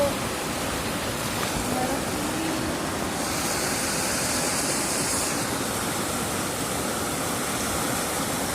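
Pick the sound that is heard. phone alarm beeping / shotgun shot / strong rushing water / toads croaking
strong rushing water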